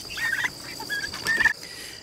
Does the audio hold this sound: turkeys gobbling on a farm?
yes